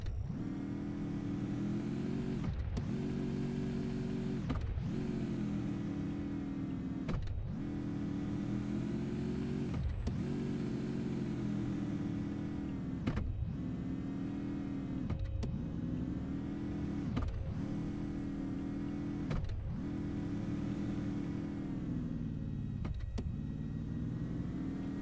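A car engine in the video game Invasion 2037 drones steadily while driving, its pitch rising and falling through repeated revs, with regular brief dips like gear changes, moderately loud and with no speech.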